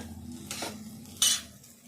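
A metal spoon clinks against a pan while cooked rice is mixed with sorrel greens paste, two sharp scraping taps separated by a pause over a faint low hum.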